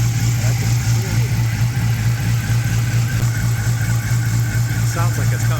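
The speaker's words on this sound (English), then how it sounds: "We already have pulley noise on this engine, and I can hear it." A car engine idles with a noisy pulley and a suspect water pump impeller, giving a constant close-up hum with a faint whining tone riding over the steady idle throughout.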